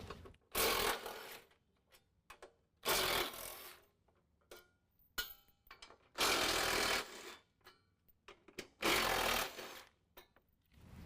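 Four bursts of a loud, buzzing power-tool rattle come in bursts a couple of seconds apart as a wrench spins out 13mm bolts from a Ford F-150 rear bumper, with quiet clinks between them.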